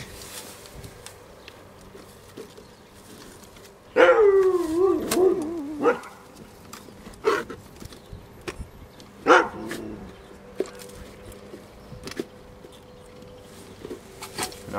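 A dog barks and howls in a backyard, with a loud burst of yelps and howling calls, then a few shorter barks scattered afterward over faint outdoor background.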